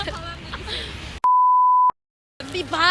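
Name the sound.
censor beep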